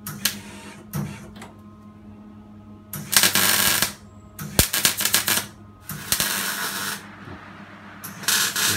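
Welding on the floor plates of a 4WD turbo Mini project car: close, loud bursts of crackling, hissing arc noise in several runs with quiet gaps between them.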